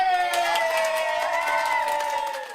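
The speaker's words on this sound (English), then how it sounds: "Roxanne Hoku was greeted with a cheering crowd after her 5-year sentence was suspended" A crowd outside a courthouse cheers, with sustained raised voices and whoops ringing out together over a brief, loud moment that eases slightly at the end.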